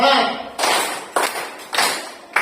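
A classroom of pupils claps in a four-beat counting game led by their teacher, with sharp group claps landing at regular intervals, slightly ragged and close by.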